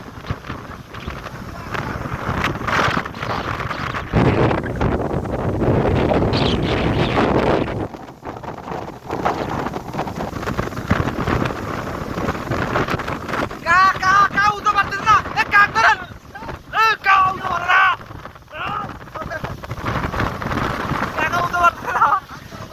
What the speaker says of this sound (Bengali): কোনো ম্যাগ নাই, শুধু বাতাস